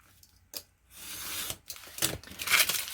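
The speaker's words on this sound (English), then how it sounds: "So I might as well cut 2 because I'm going to do a couple, I think. I'll cut here at 6 1/2." Paper cutting for a booklet made from vintage playing cards, with close, loud cutting strokes: a short snip, then longer rasping slices of the blade through the sheet, with no talking.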